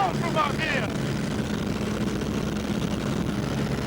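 A steady engine drone fills the air from a WW1 aeroplane in flight, close and constant, while someone speaks over it at the start.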